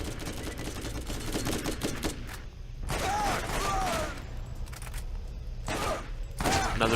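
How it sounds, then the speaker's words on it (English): Burst-fire gunshots from a weapon in the video game Borderlands crackle in rapid volleys separated by short pauses, loud and close, with other game effects mixed in. "Okay, so another burst fire."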